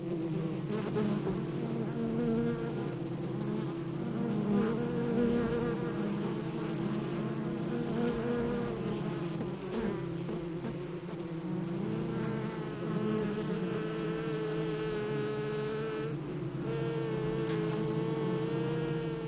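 Honey bees buzz continuously around flowers, a dense, steady hum of many insects at moderate level with no talking throughout.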